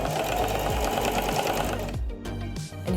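A sewing machine stitching a fabric cat hat runs steadily with a fast, even mechanical stitching rhythm, briefly slowing near the end before continuing.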